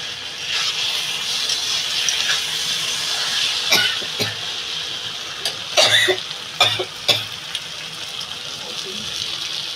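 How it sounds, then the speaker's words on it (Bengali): Onions with mango fry in a pan with a continuous close sizzle. Sharp scraping and clinking from stirring break through in bursts around the middle, and a voice speaks briefly. "এই আম পেঁয়াজ ভাজাটা আমার হয়ে গেছে"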